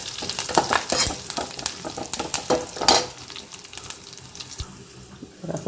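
Curry leaves sauté in a hot pan for rasam, with quick close stirring scrapes and clatter in the first three seconds, then a quieter steady sizzle with occasional taps, no talking.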